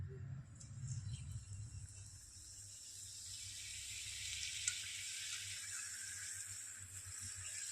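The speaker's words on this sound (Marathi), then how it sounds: "आता आपण करंज्या तळून घेऊ" Karanji pastries made with sesame, without maida or sugar, fry in hot oil over a low gas flame, giving a steady broadband sizzle with a low bubbling rumble throughout.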